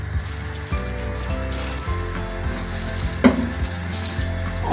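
Steady oil sizzle in a hot pan with a stir and a brief clatter partway through, continuous and close, no voices, as oil heats for frying onions.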